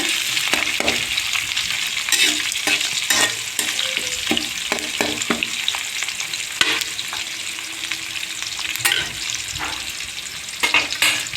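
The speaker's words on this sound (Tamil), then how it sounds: "நல்லா வதக்கி விட்டுக்கலாம். ஒரு 5 மினிட்ஸாவது வதங்கட்டும்." Vegetables sauté in a pan for a Tamil-style poriyal, with a steady loud sizzle and repeated scraping stirs and clinks of a spatula throughout, no voices.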